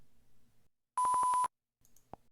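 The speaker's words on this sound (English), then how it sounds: "finally sends an audio response. In our case, a short beep sound" A single short electronic beep, steady and bright, lasting about half a second, with faint low background noise before and after.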